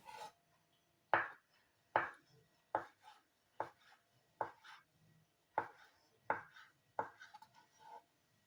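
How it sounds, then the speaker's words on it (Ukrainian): Knife cutting boiled beetroot into long thin strips on a board, about nine crisp, evenly spaced chops close by, each sharp tap followed by a brief scrape, with quiet pauses between. "Далі нарізаю смужками відварений буряк."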